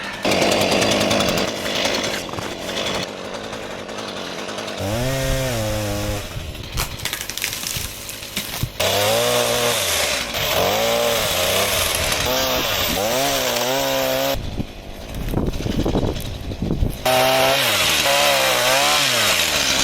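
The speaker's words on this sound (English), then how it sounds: "There's definitely not a lot of power in this chainsaw" A cheap, low-powered chainsaw cuts wood at a remote solo cabin build. Its engine drones loud and close, its pitch rising and falling as it bogs and revs through the cut, with a few short pauses.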